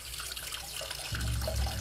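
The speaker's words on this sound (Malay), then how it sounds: "Bunyi orang buka paip di dalam." Water runs from a tap in a home kitchen toilet, a steady hissing flow that grows heavier and louder partway through as the stream hits the basin.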